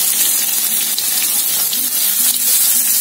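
Chopped onions fry in a pan, giving off a loud, continuous sizzling hiss that stays steady and close throughout.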